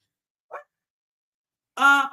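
A dog barks indoors, first a short faint yip, then a louder single bark after a pause, both close and isolated against silence.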